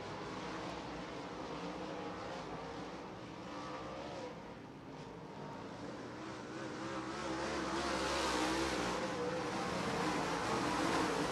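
Modified race cars roar around a dirt oval at a winter nationals event, a loud, continuous blend of engines that dips briefly and then swells again as the pack passes.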